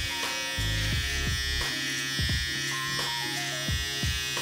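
An electric beard trimmer buzzes steadily while shaping a mustache line, its tone shifting slightly as the blades press against the hair, close-up with no talking.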